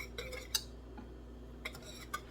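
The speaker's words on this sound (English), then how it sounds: "So I'm just going to stir that around." A spoon stirring a mac and cheese mixture, giving a few quiet clinks and scrapes against the dish at irregular intervals over a low hum.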